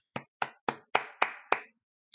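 One person claps six times at an even, unhurried pace, each clap sharp, close and dry against silence, followed by a faint seventh tap.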